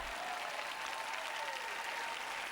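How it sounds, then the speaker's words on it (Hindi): An audience claps together in a hall, a dense, steady burst of applause that carries on evenly throughout without voices. "देखो बने हो यदि आप ताली बजा डालो।"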